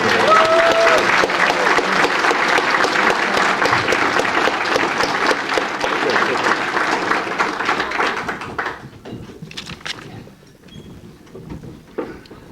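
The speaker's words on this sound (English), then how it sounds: "how about a hand of applause to all the chapters for all their work." Audience applause at an awards luncheon of a space development conference, dense clapping from a large crowd filling the room for about eight seconds, then thinning out to scattered claps and quieter room sounds.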